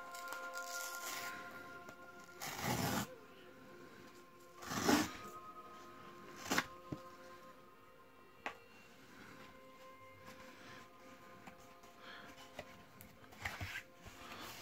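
Shrink-wrap is peeled off a boxed Nintendo Switch game, Darksiders Genesis, in several bursts of crinkly tearing and rustling plastic, close and quiet, with brief pauses and small handling clicks between the pulls.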